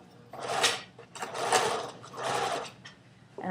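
Sewing machine topstitching along the very edge of a fly front, three steady bursts of rapid stitching separated by short pauses, close and fairly loud with no talking.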